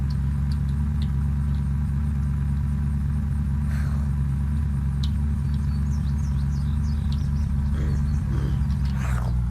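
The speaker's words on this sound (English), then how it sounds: "I think my car is a little bit faster." Steady car engine drone from the video game Unturned, a continuous low rumble with idling character running throughout, loud and constant, with faint game sound effects above it.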